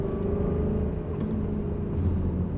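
A car engine hums and builds as it accelerates out of a corner, a steady close low rumble with a slight rise in pitch toward the end, heard from inside the car without talk.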